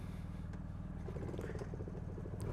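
A Honda Monkey motorcycle engine idles steadily after a key start, a low, close, even thumping putter that keeps a constant loudness for the whole stretch.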